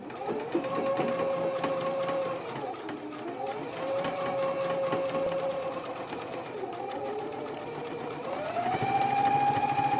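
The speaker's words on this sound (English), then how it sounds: "we can go to the machine and we can stitch along the side edges and the lower edge in a 3/8 of an inch seam allowance" A sewing machine runs steadily close by, stitching the side and lower edge seams of a skirt flap, its whirring hum rising and dipping in pitch as the speed shifts in long continuous runs.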